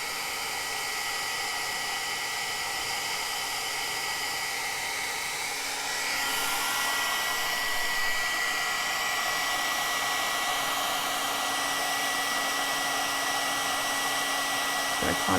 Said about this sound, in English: I'm just going to let my heat tool warm up.